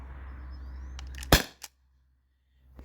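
A T4E HDP50 CO2 pistol with a large CO2 tank fires a single 2.7 gram ball: one sharp, loud crack over a low steady hum, followed by a brief faint second tick and then near silence.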